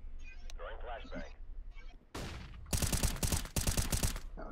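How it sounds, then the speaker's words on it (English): A flashbang grenade goes off in a tactical video game, a sharp burst followed by loud ringing, bursty noise. It lands after quiet speech, and more clipped bursts come right after. "Throwing flashbang."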